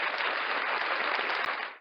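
Students in a classroom break into brief applause, a short burst of dense clapping that stops abruptly.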